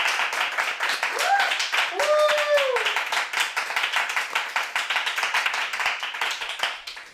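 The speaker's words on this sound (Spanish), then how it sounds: "Podéis aplaudir si queréis." Small audience at an intimate Galician concert claps steadily throughout, a dense patter of many hands close by, with a voice talking briefly over the applause.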